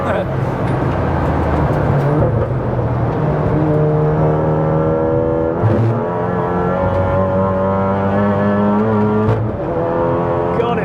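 A Volkswagen MK7 Golf R track car drives hard around a circuit, its engine droning close and loud from inside the cabin with rising and falling pitch through gear changes, a brief bump midway, and a voice talking over it.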